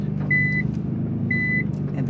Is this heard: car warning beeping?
yes